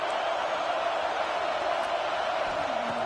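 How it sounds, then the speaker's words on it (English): A large college football stadium crowd makes a dense, continuous roar that stays at an even level throughout, loud and enveloping, with only faint hints of individual shouts. "listen to this crowd noise. This stadium is vibrating."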